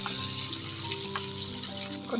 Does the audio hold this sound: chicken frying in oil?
yes